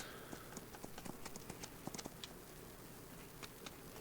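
Horse hooves clip-clop on a ride in the video game Farming Simulator 25, a faint, steady run of light, irregular knocks in a quiet scene.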